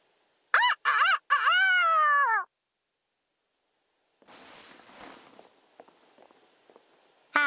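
A Fire Emblem Engage game character's voice imitates a rooster crowing, two short calls then one long drawn-out crow, followed by quieter rustling and footstep-like shuffles.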